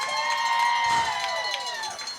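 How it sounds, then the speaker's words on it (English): A crowd at a boys' high school regional semi-final soccer match between Oregon and Janesville Craig cheers and shouts after a goal, a sustained roar of voices with scattered whistles and calls, fairly distant. "And a fine applause he gets."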